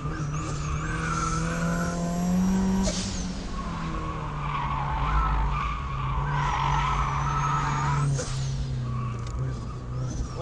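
A turbocharged Mazda Miata is driven hard on a race track. Its engine drones loud and close, rising and falling through gear changes, while the tires squeal and skid through the corners.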